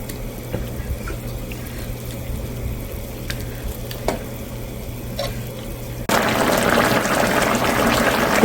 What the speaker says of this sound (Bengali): এখন মাছটা দিয়ে দিলাম।